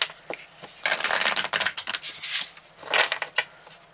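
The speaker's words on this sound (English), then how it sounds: "let's pick from some other cards. This is the Spellcasting Oracle cards." Spellcasting Oracle cards, colorful and a little slippery, being shuffled by hand in close, repeated bursts of crisp riffling and sliding card noise with brief pauses between.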